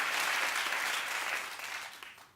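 A television talk show studio audience claps in a loud, dense burst of applause that gradually thins and fades toward the end.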